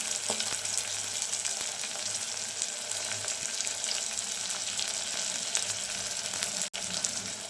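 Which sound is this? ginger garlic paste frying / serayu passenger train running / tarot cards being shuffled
ginger garlic paste frying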